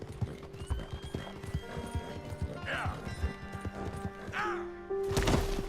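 Hoofbeats of a horse in Red Dead Redemption 2, a steady clip-clop rhythm throughout with a couple of whinnies midway, close and fairly loud over game music and ambience, with a burst of louder noise near the end.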